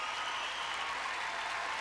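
Audience applause and cheering for a figure skating pair after their short program at Skate Canada 2015, a steady, dense wash of clapping from a large arena crowd, loud and continuous throughout.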